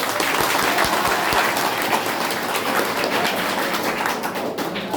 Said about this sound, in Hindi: इन सभी महापुरुषों के लिए आप लोग ताली बजाएंगे।